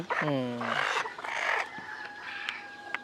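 Close-up clucking from Sonali laying hens with a brief rooster-like call, followed by a few sharper clucks and squawks against a quiet background.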